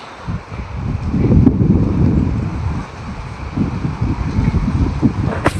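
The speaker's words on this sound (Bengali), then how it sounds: "দেখো গাছ নড়ছে, মানে বুঝতে পারছো কিরকম হাওয়া দিচ্ছে ওপরে।" Strong gusty wind under dark storm clouds sets trees swaying, roaring and buffeting close against the microphone in uneven surges.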